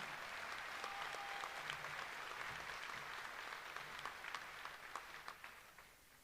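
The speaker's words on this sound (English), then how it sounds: "You need to give yourselves, as well as our graduates, a round of applause." Audience applause at a high school senior graduation ceremony, sustained clapping from a large crowd that holds steady and then tapers off toward the end, heard without talk.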